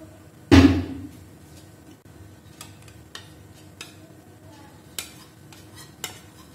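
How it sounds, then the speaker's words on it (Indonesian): A spoon clanks hard against a pot of boiling mixture as dissolved cornstarch is stirred in, followed by soft scraping and scattered light taps. "Jangan lupa diaduk lagi karena dia jadi kayak ini, jadi kayak menggumpal gitu loh"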